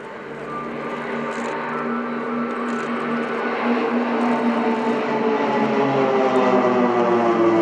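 Propeller aircraft making a display flyby at the RIAT airshow at Fairford, a steady engine drone growing gradually louder as it approaches, with a faint tonal hum and no talking.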